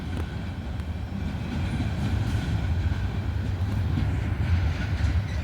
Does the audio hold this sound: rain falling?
no